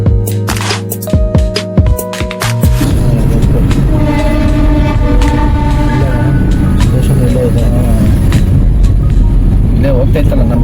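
Tirupati Express train running from Mysuru to Tirupati, first a few sharp horn blasts, then a loud, steady roar of wagons passing close by with rhythmic wheel clatter.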